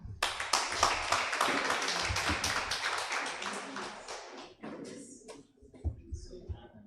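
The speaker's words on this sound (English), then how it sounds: "A bigger round of applause for the President, Uganda Medical Association" Applause from a gathered audience at a Ugandan press and public engagement event, a steady patter of clapping that rises quickly and holds for several seconds before thinning out, with a voice speaking over the tail end.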